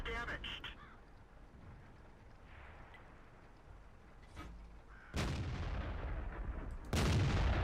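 Two loud, close tank cannon blasts in World of Tanks boom out a couple of seconds apart near the end, each with a long rumbling tail, over steady low battle ambience and a voice.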